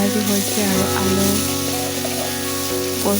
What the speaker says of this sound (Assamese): এয়া ভাজি হৈছে আৰু আলু